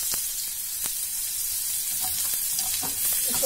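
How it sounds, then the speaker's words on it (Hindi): Mushrooms sautéing in a hot pan with bell peppers to follow, a steady close sizzle with scattered crackles and pops and a few brief utensil stirs. "इसमें मशरूम और बेल पेपर को थोड़ा सौते कर लेंगे।"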